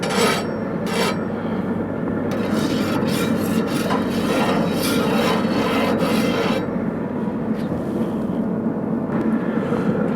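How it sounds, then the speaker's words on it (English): A spatula scrapes and spreads olive oil across the flat plancha surface of a Traeger Ranger griddle, giving a steady close rasping under a constant background hum, with brief sharper scrapes. "put down some olive oil. Move this around on the plancher, nice coating"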